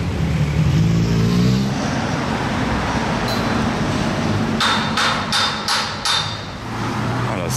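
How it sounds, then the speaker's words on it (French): A Sport Classic sports car with no race number on its door rolls downhill through Monaco. A low engine drone is clear at first, then fades into steady traffic roar with a few sharp clicks. "une Sport Classique sans numéro sur la portière. Elle est belle et elle sonne bien. Elle descend."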